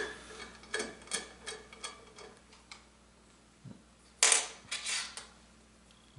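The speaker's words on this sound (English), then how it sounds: "I'm just going to take that screw out. It's nothing more than a flathead screw." A flathead screw is backed out of the pivot point of a sliding table fence with a screwdriver, giving close, quiet ticking and creaking clicks in irregular bursts, ending in a sharper scrape.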